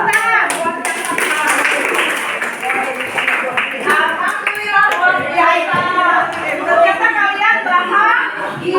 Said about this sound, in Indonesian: Tepuk tangan buat yang marah